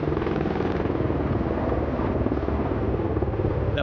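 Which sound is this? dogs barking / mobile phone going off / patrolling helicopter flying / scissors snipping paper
patrolling helicopter flying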